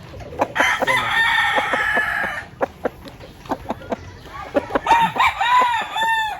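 A breeding rooster crows loudly and close by, one long drawn-out crow followed by a scatter of sharp clucks and shorter calls from nearby fowl.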